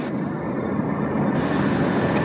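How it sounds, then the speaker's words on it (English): An Air China Cargo Boeing 747-400 departs for Beijing, giving a loud, steady jet engine roar that holds for the whole moment, heard with a voice talking over it. "747-400. Departing for Beijing."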